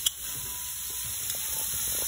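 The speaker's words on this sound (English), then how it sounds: "I'm gonna deglaze that with some white wine" A pan of shrimp is deglazed with Chardonnay white wine, giving a steady, soft, close sizzle that runs evenly throughout with no one talking.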